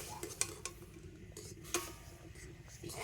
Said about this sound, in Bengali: তো এইভাবে অল্প অল্প করে দেবো আর জলের সাথে মিশিয়ে নেব